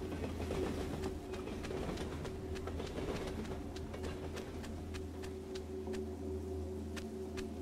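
A train rolls past in a video game, a steady low rumble with faint rhythmic clicking and a high whine, continuous and fairly loud throughout, with no talking.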